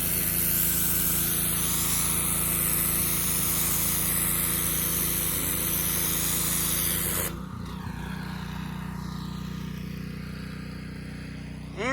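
Pressure washer running and spraying through a Simpson 80143 turbo nozzle, a loud steady engine drone with hissing spray that abruptly drops to a lower, quieter hum partway through.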